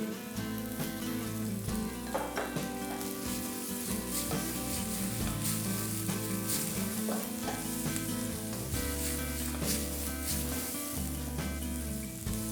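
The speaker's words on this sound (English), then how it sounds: "we want to stir fry them so they can cook very fast" Vegetables are stir-fried in a hot pan, with a continuous loud sizzle and the scrape of stirring, while music plays steadily underneath and nobody speaks.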